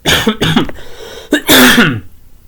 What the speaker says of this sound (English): So what used to be a wet cough turned into a completely dry cough.